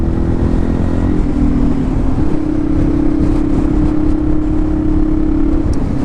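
A motorcycle engine hums steadily and loud while riding, holding a low, even drone with a slight pitch shift early on and constant wind-like rumble throughout, no voices.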